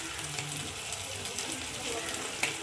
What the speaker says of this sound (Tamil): அதையும் போட்டு நல்லா வதக்கிக்கணும்